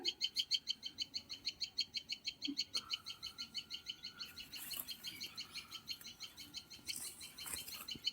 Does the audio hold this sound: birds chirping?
yes